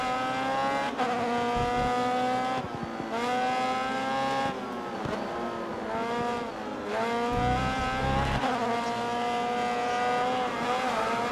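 A race car in Grid Autosport revs hard through a series of corners, the engine note climbing and dropping with each gear change and brief lift, loud and continuous with no talk.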